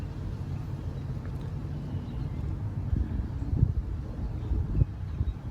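Steady wind blowing outdoors, a low rushing rumble buffeting the microphone throughout, with gusts swelling slightly louder toward the end.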